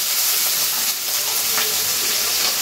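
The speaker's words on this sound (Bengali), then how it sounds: "একটুখানি ভেজে নেব।" Carrots, potatoes and peas fry in a pan with a steady, close hiss of oil that stays even throughout, without talk.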